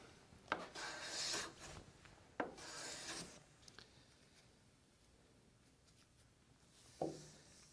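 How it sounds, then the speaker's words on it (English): A smoothing plane is pushed across a wooden board in overlapping strokes, giving a few soft, hissing shaving swishes with thin clicks at the start of each pass, quiet and close with pauses between. "To plane this board, we're simply going to start on the left-hand side and move our way across to the right"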